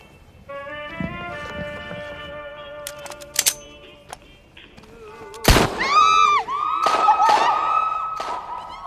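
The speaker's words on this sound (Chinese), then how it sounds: "一会儿我会开枪，开枪之后你们使劲喊。" A single sharp gunshot rings out in a wartime drama scene, followed by people shouting loudly. Tonal background sounds come before the shot, and the raised voices continue after it.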